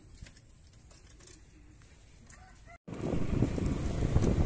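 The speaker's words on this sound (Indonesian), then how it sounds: "Merpati." Pigeons cooing outdoors beside a bumpy road through rice fields, soft and fairly distant at first, then masked by a sudden surge of loud rumbling noise after a brief drop-out.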